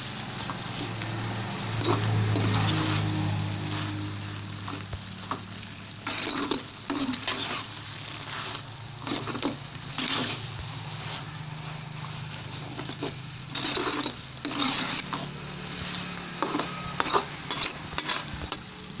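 Vermicelli (semiya) stirred in a pan of boiling water for semiya upma, giving close, irregular scraping and bubbling with bursts of spoon-on-pan clatter over a steady cooking hiss, with no talking.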